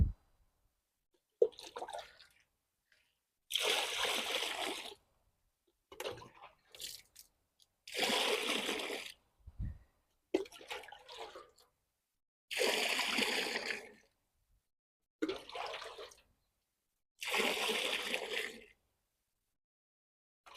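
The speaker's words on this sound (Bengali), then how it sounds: "এই টবের বাইর দিয়ে পানি দিয়েছি।" Water poured around the outside of a potted water lily in a rooftop garden, coming in six or seven separate bursts of splashing and trickling with short quiet gaps between them, close and fairly loud.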